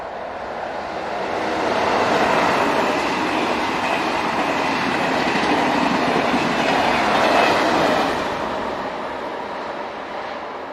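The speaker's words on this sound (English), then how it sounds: "Heading south is TGV set number 40, forming the 1801 departure from Dunkirk to Lille" A TGV high-speed train passes heading south on the Dunkirk to Lille service, a steady rushing roar that swells over the first two seconds, holds loud and close, then eases slightly at the end, with no talk.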